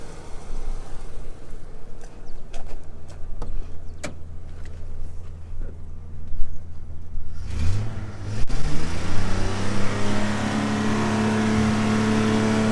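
An engine filled with sand and water idles roughly, then surges as the throttle is pressed and sticks, climbing into a sustained loud rev that holds steady to the end.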